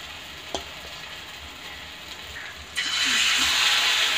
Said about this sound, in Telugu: అందులో ఇలా ఫ్రై చేసుకుంటూ రావాలి.